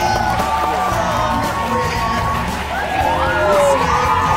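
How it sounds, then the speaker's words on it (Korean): A television studio audience at a Korean entertainment show cheers, whoops and shouts loudly, with children's voices rising above the crowd and an excited swell toward the end; scattered applause is mixed in. "뜨거운 박수 부탁드립니다!"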